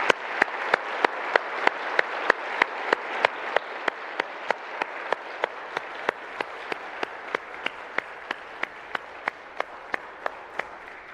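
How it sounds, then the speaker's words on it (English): A concert audience at a Celtic-themed orchestra performance claps, with a crisp rhythmic beat of unison claps running steadily over a softer bed of general applause. "Let's give them a round of applause again."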